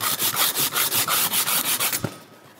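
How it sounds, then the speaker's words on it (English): Metal is hand sanded on a bike, giving a rapid, even series of close scratchy rubbing strokes, about a dozen in quick rhythm, that stop after two seconds with a light knock. "We have to hand sand some of the product."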